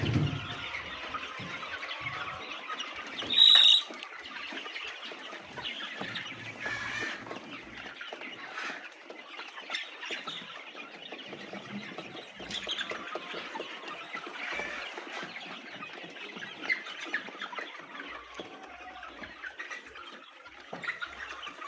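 Frightened laying hens in a poultry house cluck and call continuously at moderate distance, with one louder squawk near the start standing out over the steady flock chatter.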